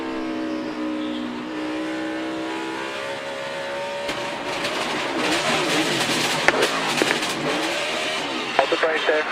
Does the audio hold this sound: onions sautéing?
no